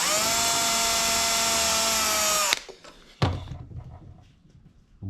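A power driver snugs screws into a Stratocaster guitar build, a loud steady whirring run for about two and a half seconds, then stopping, followed by a sharp knock and fading handling noise.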